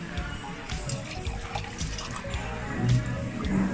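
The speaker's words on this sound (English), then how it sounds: "And we're getting some water." Water is poured into glasses at a restaurant table in Ocho Rios, Jamaica. It makes a close, gurgling trickle that swells toward the end over faint background chatter.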